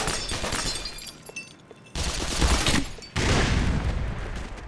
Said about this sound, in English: That explosion seemed a bit big.